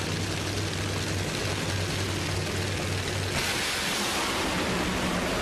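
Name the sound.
Cruz Pedregon's funny car making a drag race run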